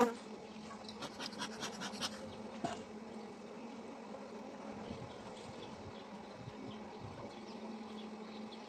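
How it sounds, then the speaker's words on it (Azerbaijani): Aggressive honeybees hum around an opened hive with a second box being added, a steady close buzzing with scraping and clicking of frames being handled. "Arılar artıq agresivləşdi."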